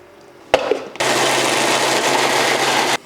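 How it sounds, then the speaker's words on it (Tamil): A mixer grinder grinding soaked urad dal (black gram) for batter whirs at a loud, steady pitch for about two seconds after a brief knock and short start, then cuts off abruptly. "சரி பாதியாக போட்டு அரைப்போம்னு சொல்லி அரைச்சிட்ருக்கேன்"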